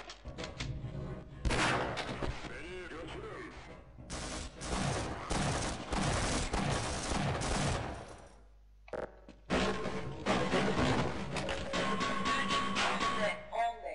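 Repeated shotgun blasts in the video game Half-Life, loud and dense, with bursts of firing broken by short pauses and no talk.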